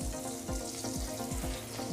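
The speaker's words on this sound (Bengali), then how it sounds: "তেলটা দেওয়ার পর তেলের মধ্যে দিয়ে দিচ্ছি সামান্য একটু পেঁয়াজ কুচি" Chopped onion frying in hot oil in a wok, a steady close sizzle running the whole time with regular scraping strokes of stirring at an even pace.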